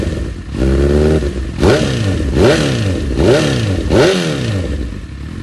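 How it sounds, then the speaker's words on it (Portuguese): Honda CB1000 motorcycle with a misadjusted valve cover, revved repeatedly in several rising and falling bursts, close and loud, with a faint mechanical clatter beneath the engine. "na tampa da válvula que tava desregulada e tava fazendo um barulhinho"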